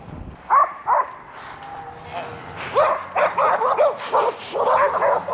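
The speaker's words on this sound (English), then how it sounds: "She comes out, chase her back into the herd, and then leave her. That's just right. Good dog, Annie." A herding dog barks repeatedly at cattle during a high-country cattle drive. Sharp, close barks arrive in bursts, with a person speaking at points between them.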